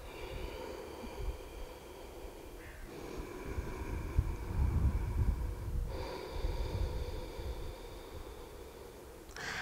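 Slow, deep breathing of a person holding a yoga tree pose: soft, hollow inhales and exhales in long, even cycles, close and quiet over a low background hum, with no talking.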